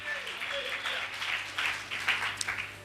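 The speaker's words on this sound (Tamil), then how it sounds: "கைத்தட்டுங்க ஒரு அவருக்கு" A church congregation claps at a Sunday service, the applause moderate and somewhat distant, rising and falling in uneven bursts with a faint voice underneath.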